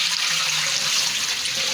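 Steady tap water pours and splashes continuously in a kitchen sink while fish pieces are being washed. It sounds close and fairly loud and stays even throughout, with no one speaking.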